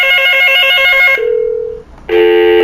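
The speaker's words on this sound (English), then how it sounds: "The analog extension 8011 rings." Loud, close ringing from an analog phone on Yeastar extension 8011, a bright electronic ring that shifts to a lower single tone, dips briefly, then resumes at full strength.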